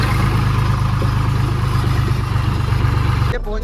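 Tractor engine running near a roadside shop, a steady low rhythmic chug close by that cuts off abruptly at the very end.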